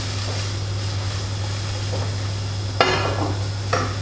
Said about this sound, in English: try just browning them off a little bit more